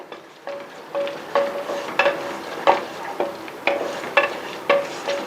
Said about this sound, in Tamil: நல்லா பொறுமையாக வதக்கிட்டு இருக்கேன்.